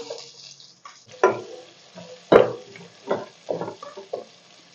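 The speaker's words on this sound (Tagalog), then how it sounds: "Next, ilagay na natin ang sibuyas." Onions drop into hot oil with frying pepper, cumin, cardamom, bay leaves, cloves and cinnamon for chicken kabsa, giving several separate bursts of sizzle and clatter with quiet pauses between, close and fairly soft.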